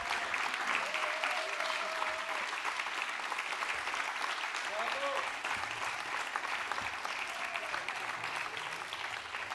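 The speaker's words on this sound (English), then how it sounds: "They truly deserve a big round of applause." Conference audience giving a long round of applause, a dense, even clapping that fills the room and holds steady before easing slightly at the close.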